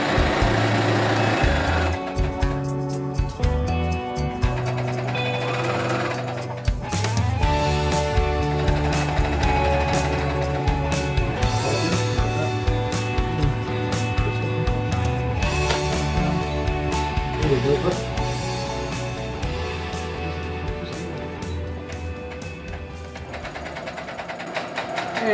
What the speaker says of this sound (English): And sewing back through to finish it off.